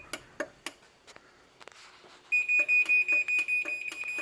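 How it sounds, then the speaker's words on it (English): A garage door opener beeps repeatedly while setting its own force, a run of evenly spaced loud electronic tones at close range after a few scattered clicks and taps, with no talking. "Now you're going to push this button, and then the opener is going to start beeping,"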